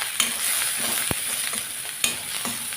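Chopped onions sizzle in oil in a pan for kara kuzhi paniyaram. A spoon scrapes and stirs through them now and then with sharp clicks over a constant bright frying hiss, and no one speaks.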